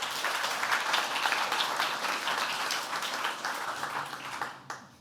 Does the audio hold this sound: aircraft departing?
no